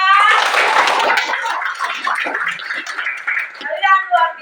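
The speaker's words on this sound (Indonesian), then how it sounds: "Tepuk tangan untuk kalian semua." A class of students clapping in a classroom, a burst of dense applause at the start that thins out as a teacher's voice talks over it.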